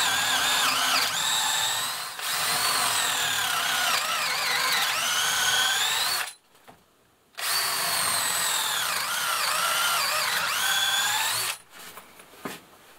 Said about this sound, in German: mit einem 13er Bohrer hier in den 6 cm Fichtenbalken einfach jeweils 3 Löcher bohren